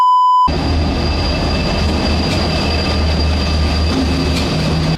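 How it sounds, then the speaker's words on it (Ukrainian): A nearly empty train carriage rolling along rails with a constant loud rumble and steady high-pitched whine, after a short test tone at the start. "Вагон майже пустий, тут буквально два пасажира"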